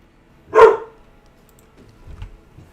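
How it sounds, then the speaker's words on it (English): A single sharp dog bark rings out close by, followed by quiet shuffling and faint low sounds in an otherwise hushed setting. "I don't know what we would have done if you didn't bark at that leaf."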